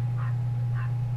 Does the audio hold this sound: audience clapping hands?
no